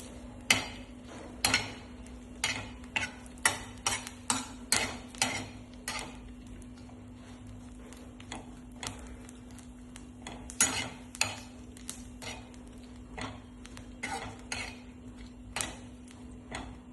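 Green chillies are dry roasted lightly in a pan for thecha, and a spoon clinks and scrapes against the metal in regular taps over a faint steady hum.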